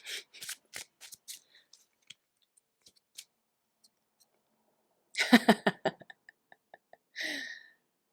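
Crisp riffling of cards shuffled close by, a burst of rapid ruffling clicks followed by a few scattered taps and a final short riffle.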